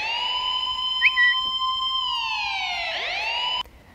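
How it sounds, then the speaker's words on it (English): A siren sound effect for a music drop rises and holds as a steady wailing tone with bright harmonics, then sweeps downward near the end before cutting off abruptly, loud and alone. "Put a siren in my drop right now."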